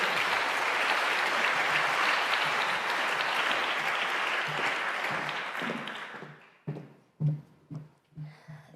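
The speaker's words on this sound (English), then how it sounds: "Let's applaud him, Martin Ford." Dense, sustained applause from an investment conference audience fills the room, then thins out and fades into a few scattered, separate claps at the end.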